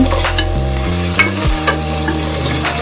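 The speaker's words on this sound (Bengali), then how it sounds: "এবার আমি একে একে আলুগুলো সব ছেড়ে দেবো।" Potatoes fry in a hot wok (kadai) with a loud, constant sizzle and frequent stirring scrapes. A steady tonal layer runs underneath, and no one speaks.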